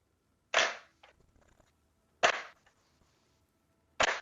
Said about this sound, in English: let's see how that sounds for our pickup and drop test with a controller on a desk